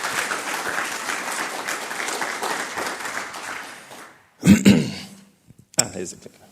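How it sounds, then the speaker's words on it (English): Audience applause at a presentation event fills the first four seconds as steady massed clapping, then stops abruptly and gives way to a loud cough and throat clearing followed by quieter scattered sounds. "give a round of applause for Jonathan"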